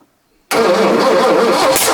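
Ford Falcon XW engine abruptly firing with a loud kickback during cranking after a near-silent pause, followed by a sustained rough, roaring mechanical drone for the remaining second and a half.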